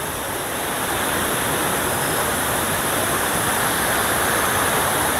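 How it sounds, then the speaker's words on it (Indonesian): Curug Cikaracak waterfall roaring as a loud, steady, dense rush of falling water, continuous and unbroken throughout, with no voices. "Yuk kita lihat Curug Cikaracak."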